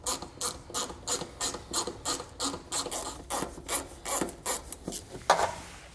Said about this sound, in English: We need to go ahead and remove that using a 7/32 inch socket.